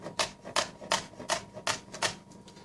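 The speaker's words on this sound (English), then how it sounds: "So I'm going to go ahead and slice these up" A knife slices jalapeno peppers on a cutting board in a steady series of about seven sharp, close chops, evenly spaced and clear, with no talk over them.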